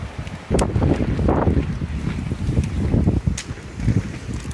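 Strong gusty spring wind at a lakeside campsite at Baker Lake in the North Cascades, Washington, buffets the microphone, producing loud low rumbling bursts that rise and fall continuously.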